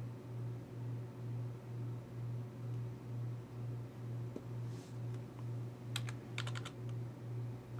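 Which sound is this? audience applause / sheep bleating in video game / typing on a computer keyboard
typing on a computer keyboard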